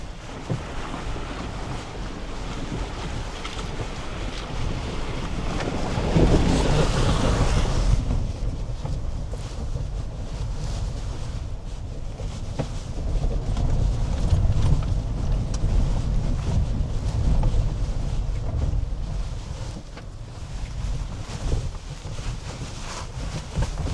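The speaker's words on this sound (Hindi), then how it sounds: "सो अब हम वाटर क्रॉसिंग के लिए जा रहे हैं।" A GWM Tank 400 SUV pushes through a water crossing at an outdoor test facility, with a broad, steady rush of splashing water and engine rumble that swells near the middle, buffeted by wind noise and with no talk.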